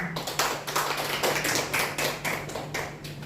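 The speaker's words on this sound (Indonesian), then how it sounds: "Tepuk tangan buat Yesus." Congregation clapping in rhythm during a church worship service, a steady series of sharp, fairly even hand claps repeating about every half second at moderate volume, with a low steady hum underneath.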